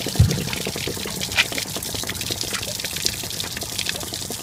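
Water gushing and splashing out of the drain opening of a 2014 Jayco Flight Baja RV's hot water heater tank, a steady close pour with occasional sputters and drips.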